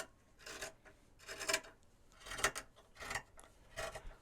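Scissors trim fabric for a softcover journal cover, several short, rasping cuts in an uneven rhythm, close and fairly quiet with brief pauses between snips.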